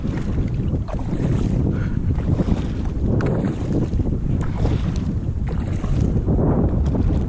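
Strong headwind buffeting the microphone while paddling a Pungo 140 kayak on open water, a loud continuous roar of wind with water sloshing beneath, no talking.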